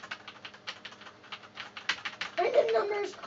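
Rapid clicking of number keys on a computer keyboard during a video game, a quick irregular patter of light taps that grows busier toward the end, with brief speech mixed in.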